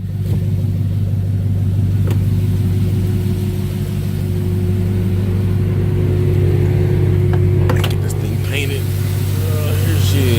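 A 2004 Chevrolet Suburban with a regular 5.3 V8 and an electric fan swap idling after a cold start, a steady loud low rumble running throughout with a few faint clicks and rattles near the end.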